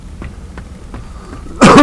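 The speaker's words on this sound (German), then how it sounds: "Kacke Husten." A single loud, harsh cough erupts near the end, close to the microphone, after a quiet stretch of faint soft ticks.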